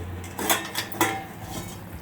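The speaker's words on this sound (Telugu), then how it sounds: "ఇప్పుడు వాటర్ పోసాను కదా, మూత పెడతాను" A metal lid set onto a pot of cooking moong dal lentils with water, giving a few light clinking knocks of metal on metal, close and moderately loud with no speech.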